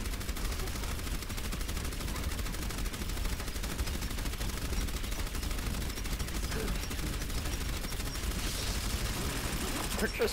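Rapid, sustained gunfire in the video game Overwatch rattles continuously throughout, dense and loud, with a burst of brighter noise near the end.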